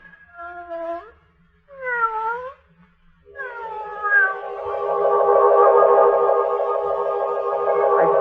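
A cat meows twice with drawn-out, wavering cries, then lets out a long, loud caterwaul that swells and holds, set in an eerie radio-drama scene with a faint low hum underneath.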